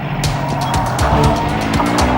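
Car swinging around in a tight turn, tires skidding and squealing under a steady engine roar, with repeated sharp screeching bursts close by and no talk.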